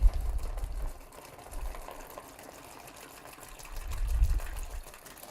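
Water pours into a plastic bag to make a comet model, in a few bubbling, gurgling bursts, close by, with quieter pauses between pours.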